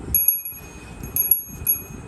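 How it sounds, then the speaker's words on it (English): A small hand bell is rung during prayer in Nepal, giving a thin, high, sustained ring with repeated light strikes about every half second, close and fairly soft over low rustling. "Ring the bell."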